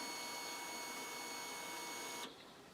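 A Yamaha YBR 125 motorcycle with its ignition switched on gives a faint, steady electrical whine with fixed high tones, which drops away abruptly near the end, leaving a quieter hum.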